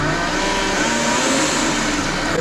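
A gear-driven kitchen appliance motor with a throttle-like speed control runs at high speed while basil is broken down into oil, giving a loud, steady, dense whir that holds without a break and has no talking over it.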